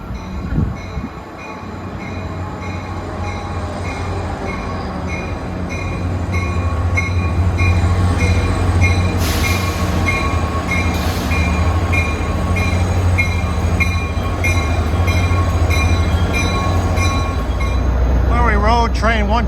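A Caltrain train hauled by an F40 diesel locomotive passes close by at trackside. A loud, steady rumble of engine and rolling wheels builds and holds, with a bright horn or squeal near the end and no talk.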